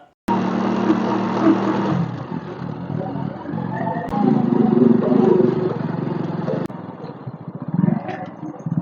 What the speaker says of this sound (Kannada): ಮಣ್ಣು ಹಾಕಿ ತಾತ್ಕಾಲಿಕವಾಗಿ ನಿರ್ಮಿಸಿದ ರಸ್ತೆಯಾಗಿದ್ದರಿಂದ ಇಲ್ಲಿ ಬೈಕ್ ಚಲಾಯಿಸೋದು ಸ್ವಲ್ಪ ಕಷ್ಟಕರ